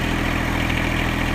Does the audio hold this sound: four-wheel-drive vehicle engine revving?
yes